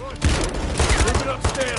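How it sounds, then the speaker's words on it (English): Heavy explosive weapons fire roars without pause during a Call of Duty: Modern Warfare 3 campaign mission, Trojan Horse, loud and close with repeated booming impacts across the whole moment. "rocket fire upstairs."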